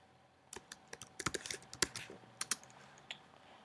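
Fingers type on a computer keyboard nearby, an irregular burst of sharp plastic key clicks coming in quick clusters, some louder strokes standing out, over a quiet room hum.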